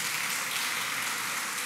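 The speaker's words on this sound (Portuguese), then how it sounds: "Salva de palmas para Jesus." Church congregation applauding together, a dense steady wash of clapping from many hands, brief and without pause.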